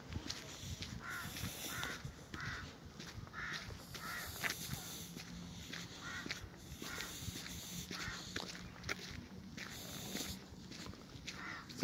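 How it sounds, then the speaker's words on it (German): Crows cawing during a Sunday afternoon walk up to the Gloriette in Vienna, a series of repeated harsh caws at moderate distance over footsteps and outdoor ambience. "Und die Krähen begleiten uns nach wie vor."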